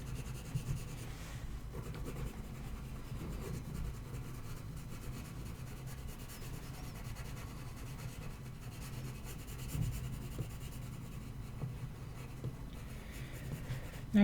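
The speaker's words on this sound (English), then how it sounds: "So I'm just shading this first piece" Pencil shading on paper makes a soft, continuous scratchy rubbing close up, with steady back-and-forth strokes at a low, even level throughout and no voices.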